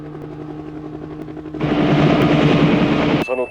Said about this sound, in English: the fucking helicopters sound different